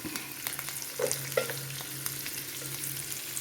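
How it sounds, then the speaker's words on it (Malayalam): Garlic and curry leaves crackle and spit as they are stir-fried in oil until crispy, a soft steady sizzle broken by scattered pops and spoon scrapes. "കറിവേപ്പില ഒന്ന് നല്ല ക്രിസ്പിയായി വരുന്നോടം വരെ നമുക്ക് ഇളക്കി ഇതൊന്ന് ഉണക്കണം"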